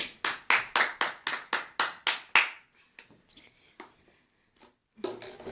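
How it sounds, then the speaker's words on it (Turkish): A short burst of close, sharp hand claps from a small group celebrating Furkan's win at a game, about ten loud evenly spaced claps that stop suddenly, followed by faint scattered taps and rustles. "Furkan'ı alkışlayalım"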